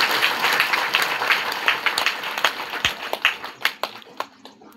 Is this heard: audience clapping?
yes